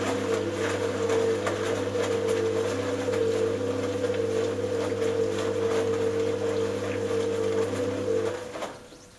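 An Indesit L5LF washing machine turns its drum with a steady motor hum and faint water sloshing, continuous and close for several seconds before the rotation stops and the sound drops away.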